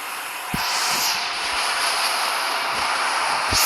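A train rolls past in a train simulator game, a continuous broad rumbling hiss with a few sharp knocks and clunks, loud and steady, with no voices over it.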